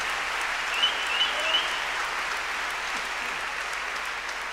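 A concert crowd applauds the pianist, a dense, even wash of clapping filling the room at steady loudness for several seconds, with a few faint whistles cutting through.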